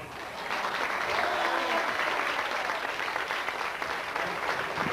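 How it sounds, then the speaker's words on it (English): An audience claps for a speaker being welcomed to the stage, a dense steady round of applause rising quickly after a brief quiet start and holding evenly to the end, moderately distant. "Help me give a round of applause to Mr."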